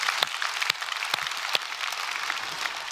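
A church congregation claps steadily in dense applause during a Sunday service, with occasional louder individual claps standing out, sustained throughout without voices.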